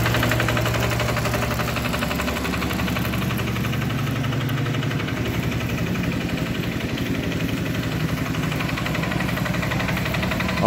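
Baby roller compacting freshly laid hot mix asphalt on a road paving job, its engine idling in a steady mid-pitched rumble with a rapid knocking vibration, close and constant throughout.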